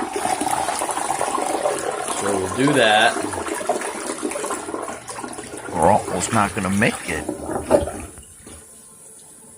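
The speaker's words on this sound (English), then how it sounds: "Okay, so we're supposed to flush it." A household toilet flushes after Green Gobbler main line opener gel has been added. Water rushes and gurgles for several seconds under a person's talking and then fades.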